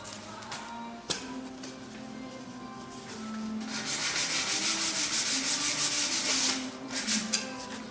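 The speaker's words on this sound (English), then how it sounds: "doing a final sanding here" Steady rasping strokes of sandpaper rubbing over wood, close up, growing louder and more rhythmic midway, with a sharp tap near the start.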